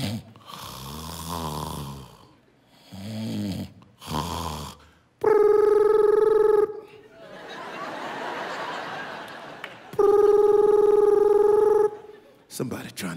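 A comedian on stage vocally imitates a telephone ringing, two loud sustained ring bursts between stretches of his own speech and breathy sounds, with audience noise in the gaps.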